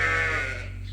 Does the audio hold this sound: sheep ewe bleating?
yes